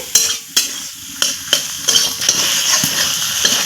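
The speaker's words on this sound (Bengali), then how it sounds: "ভেজে রাখা আলুগুলো দিয়ে দিলাম এখন আমি খুব ভালো করে একটু নাড়াচাড়া করে নিচ্ছি" Fried potatoes are stirred into a thick egg curry masala, each spoon stroke scraping and knocking against the pan in a quick rhythm over a close, continuous sizzle.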